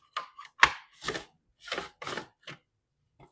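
Red onion pushed down a mandoline-style slicer, giving several quick crisp slicing strokes in short bursts with brief pauses between, close and fairly quiet.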